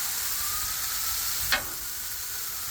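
Hibachi-style food sizzles on a Blackstone griddle with a steady, dense hiss close by, broken once by a brief scrape or clink midway, and no one talking.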